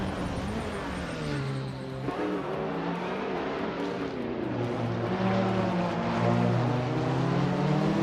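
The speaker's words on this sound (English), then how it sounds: "Jackson Dubox is driving a vintage AMC Javelin from 1969" A vintage 1969 AMC Javelin racing, its engine a steady droning roar that rises and shifts pitch as it accelerates, fairly close and continuous with no talk over it.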